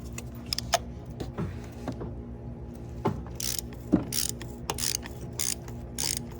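Ratchet with an extension and spark plug socket loosening spark plugs on a 2017 Ford Escape 2.5L, with sharp clicking pawl strokes in short irregular bursts under a low steady background hum.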